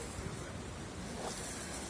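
A noisy river flows toward the sea along a seaside embankment in Turkey in January, a broad, steady rushing wash with wind buffeting the microphone, close and continuous.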